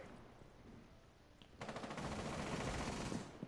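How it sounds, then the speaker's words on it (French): Video game gunfire as shots go through walls: a sudden sustained burst of rapid automatic fire, fairly loud after a quieter lead-in. "Oh, ça tire des gros wallbang"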